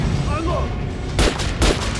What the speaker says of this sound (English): Try shooting for the center of the regular dummy chest.